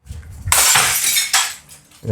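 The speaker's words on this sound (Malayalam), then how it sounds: "ഗ്ലാസ് നമ്മൾ എറിയുകയാണ്," Glass smashes loudly and shatters in a smash room, followed by a second crash and tinkling fragments settling, close and sharp.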